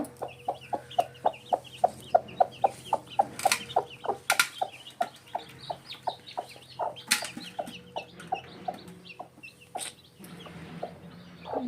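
A hen clucks in a steady, rhythmic series of short calls near newly hatched chicks, whose thin, high peeps scatter in between the clucks.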